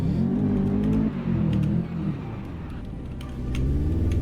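A Mazda RX7 on snow is revved hard in low gear, its engine roaring loud and close with a rising then sagging pitch as the tires spin and break traction, dipping briefly before climbing again.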